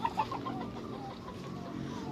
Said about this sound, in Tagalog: ipakita ko lang sa inyo yung mga sisiw ng pabo ang available